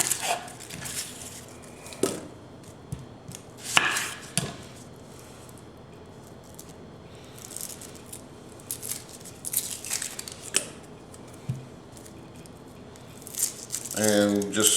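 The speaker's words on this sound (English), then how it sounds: "the first thing that we're going to do is we are going to mince up our onion." An onion being minced with a knife for a crawfish étouffée, scattered sharp chopping taps and rattles spread across the span, sounding close, with a person talking over much of it.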